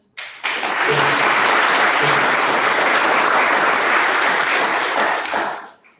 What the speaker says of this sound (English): For once we get to have an applause